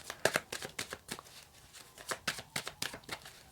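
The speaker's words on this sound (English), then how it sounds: "if you feel like the shuffling is too much, then feel free to fast forward until you see everything set up" Tarot cards are shuffled by hand close up in a quick irregular run of crisp riffles and slaps, alone without talk.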